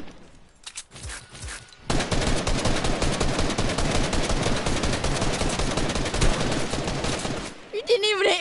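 Rapid gunfire bursts in the video game Fortnite, a dense sustained rattle of shots lasting several seconds after a short quiet start, then cutting off near the end.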